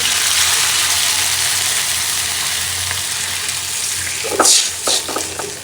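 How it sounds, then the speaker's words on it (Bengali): A loud, steady sizzle of onions frying in hot oil fills the clip, with a few stirring scrapes near the end. "পেঁয়াজটা ভাজা ভাজা হতে থাকুক"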